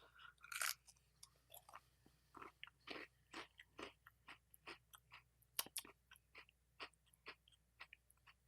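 Dark chocolate Oreo Thins cookies bitten and chewed close up, with a sharp crunchy bite followed by a steady run of soft, rhythmic chewing crunches, and no talk.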